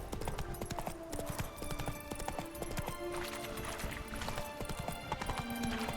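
Hooves of Roach, the horse in The Witcher 3, beat out a steady, rapid galloping clip-clop close by, with game music and ambient tones running underneath throughout.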